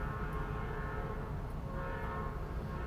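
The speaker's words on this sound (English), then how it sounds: "Choo-choo train." A train rolls past in a steady, continuous rumble. Faint horn-like tones hang over the rumble throughout, and nobody speaks.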